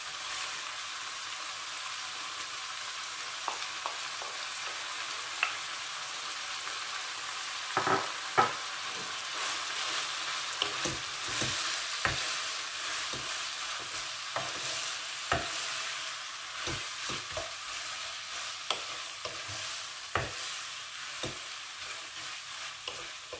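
Clams and onion stir-fry in a wok for a Thai basil clam dish: a continuous sizzle with repeated sharp clacks and scrapes of the spatula and shells, fairly close, with no talk.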